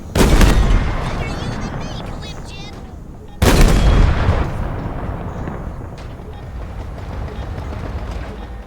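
Halo video game gunfire: two heavy blasts a few seconds apart, each decaying into a rumbling tail, with loud close battle noise throughout.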